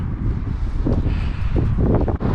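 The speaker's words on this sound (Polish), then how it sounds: "Nie dość, że pod wiatr, to jeszcze pod górę." Heavy headwind roars and buffets against the microphone of a cyclist riding uphill, loud and gusty throughout with no speech.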